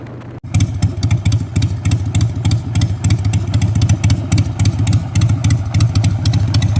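A 2001 Harley-Davidson Sportster 883 motorcycle engine starts up with a short burst, then settles into a loud, steady, lumpy idle. The low pulsing throb runs continuously close by, with a light mechanical clatter riding on top.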